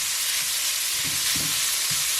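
Thick layers of bacon fry in a pan for a quiche, giving a steady close sizzle and crackle with a few soft pops and no talking.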